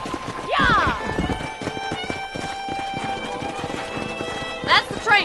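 Horse hooves clip-clop at a gallop in the Western video game Red Dead Redemption, a steady run close by with a whinny near the start and end, backed by game music and talk.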